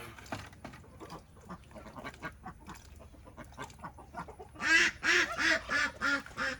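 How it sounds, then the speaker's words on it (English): Ducks quack loudly in a run of six or seven nasal calls, following scattered clucking and rustling fowl sounds in a barnyard. "Here come the ducks to muddy things up."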